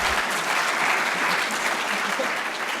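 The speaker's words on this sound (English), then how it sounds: "So maybe if we just give Georgia a round of applause." Audience applause after a talk at an agile meetup in Auckland, an even, continuous clapping from a modest crowd, fairly quiet and unbroken.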